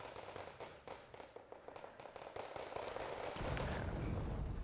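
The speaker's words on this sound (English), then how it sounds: "I'm using my Paladin to provide artillery support" Paladin self-propelled artillery firing in a video game, a rapid run of crackling, popping impacts that swells into a dense, rumbling barrage, moderately loud.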